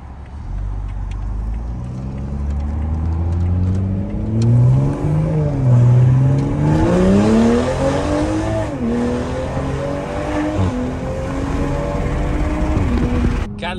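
A Toyota A90 Supra with a B58 engine and catless Armytrix downpipe revs repeatedly, its exhaust rising and falling in loud, close sweeps over a steady idle.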